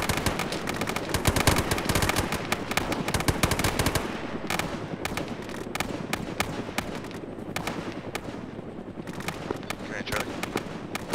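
Gunfire in Arma 3 with loud, dense bursts of rapid automatic fire up close, then sparser scattered shots continuing under radio chatter and talk.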